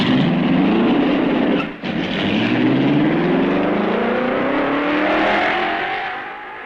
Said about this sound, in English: The road is clear and Eugenio Castellotti starts the wheels rolling.